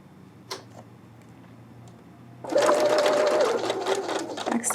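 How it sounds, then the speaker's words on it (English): A sewing machine stitches a collar seam around a neckline with backstitching: after a couple of quiet seconds it starts a close, steady, rapid mechanical whirr and ticking, with a brief higher whine as the stitching changes pace. "sew up to the circle, stopping precisely at the circle and backstitching"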